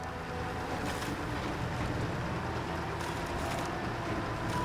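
Steady, continuous drone of a Paystar 5600TS truck engine running in high gear in SnowRunner, a broad even rumble held without breaks or gear changes.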